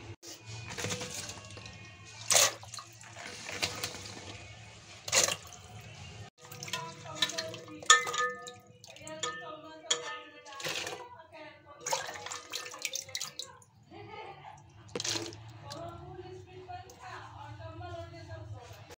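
Cut onion flower stalks are rinsed in water by hand, with soft intermittent splashes and trickles at close range, fairly quiet, in a home kitchen.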